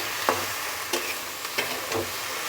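A steady sizzle of chickpeas frying in a pan, broken by a few scraping stirs of a spoon at irregular intervals.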